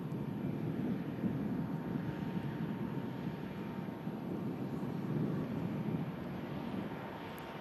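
A Pegasus Airbus A321neo moves at Manchester Airport, heard as a broad, steady jet roar from a distance, swelling slightly across the span with some wind rumble.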